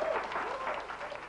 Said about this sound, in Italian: Un applauso, se lo merita.